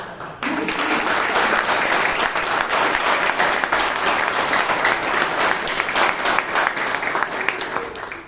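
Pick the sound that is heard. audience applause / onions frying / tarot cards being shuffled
audience applause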